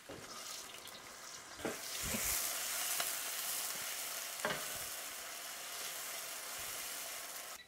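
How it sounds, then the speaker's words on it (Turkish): Onions sizzle steadily in hot butter and oil, a constant broad frying hiss with a few soft stirring knocks and clinks, close and unbroken. "Soğanları içeri alıyorum."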